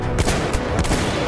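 Rapid bursts of gunfire rake toward the player in Battlefield 1, several sharp, loud shots clustered close together in a brief, intense volley.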